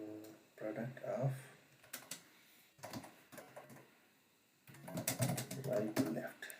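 Quick bursts of keystrokes clatter on a computer keyboard while code is written, coming in close, uneven runs separated by short pauses.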